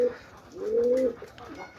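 Deshi pigeons coo close by in one drawn-out, rising call of about half a second, with softer murmuring coos before and after it.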